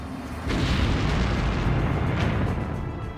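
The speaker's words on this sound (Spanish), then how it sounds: "La fuerza de la explosión paró la batalla en seco." A deep, sustained explosion from a battlefield mine roars in abruptly and rumbles on for several seconds, loud and heavy with a broad, thundering low end.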